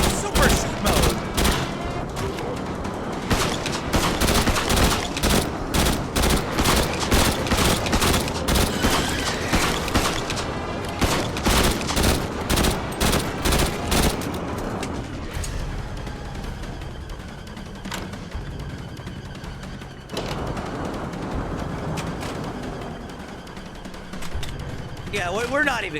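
Rapid, sustained video game gunfire in super shoot mode, dense bursts of shots for about fifteen seconds, then sparser firing and game noise to the end, with a voice talking over it.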